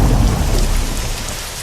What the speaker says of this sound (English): The rain grew heavier.